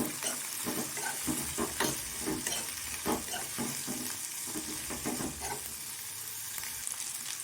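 Onion, garlic and tamarind sauté in a pan for coriander leaf chutney, giving a steady close sizzle with scattered stirring scrapes and light clicks throughout, with no talking.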